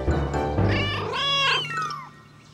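Cartoon kittens meow in a quick overlapping run of cries, rising and falling, fairly close and loud, with no talking over them.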